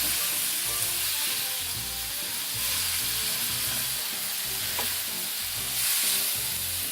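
A Christmas stir fry with meat hisses loudly and continuously in a pan as it is stirred, the close sizzle swelling and easing slightly with the movement.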